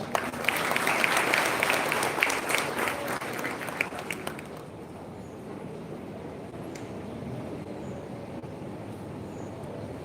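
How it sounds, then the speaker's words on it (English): Audience applause at a first-year college induction program inauguration: a loud burst of clapping for about four seconds that tapers to a quieter hall murmur. "Let's have a huge round of applause for such a personality."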